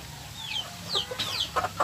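Mother hens at a Filipino backyard farm, brooding on their eggs, give a few short clucks and squawks at moderate distance against a quiet outdoor background.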